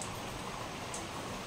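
Heavy rain pours down steadily and close by, a dense continuous hiss of drops on surfaces with no voices heard.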